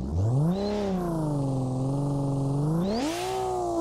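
In a video game, a 1965 Ford Falcon fitted with an RB26DETT engine revs twice, its loud, close engine note sweeping up, holding a high drone, then surging again.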